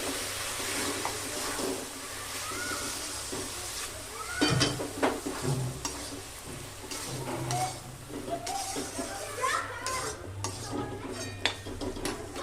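Spinach paneer rice being stirred in a pot, a spoon scraping and clinking against the metal in an irregular, fairly close scrape over a soft kitchen background, with no talk.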